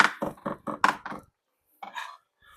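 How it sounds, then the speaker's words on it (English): Food is chopped on a cutting board in a home kitchen while making bacon mac and cheese, about six quick close knife strikes in a run, then a pause and a couple of softer knocks. "Now we gotta chop all this little baby up."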